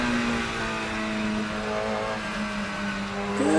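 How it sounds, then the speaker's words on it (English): Radical SR3 XXR race car in Assetto Corsa holding a steady engine drone with harmonic whine, easing onto overrun with a slight crackle near the end; close and continuous, no talk. "Got some nice gurgly noises on the overrun there."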